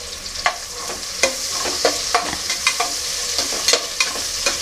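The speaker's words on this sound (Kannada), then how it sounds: "ಚೆನ್ನಾಗಿ ಕೆಂಪಾಗೋವರೆಗೂ ನಾನು ಇದನ್ನು ಈರುಳ್ಳಿನ ಫ್ರೈ ಮಾಡ್ಕೊತಾ ಇದ್ದೀನಿ" Onions frying in oil in a pan for mushroom pulav, a constant sizzle broken by repeated sharp scraping clicks of a spoon stirring at an irregular pace, close and alone without any talk.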